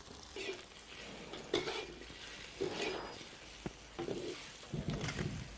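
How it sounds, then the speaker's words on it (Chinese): Rice tofu sizzles in a hot pan with intermittent scraping and stirring clatter, fairly quiet and close, no voices. "我把那个米豆腐来给它煎一下"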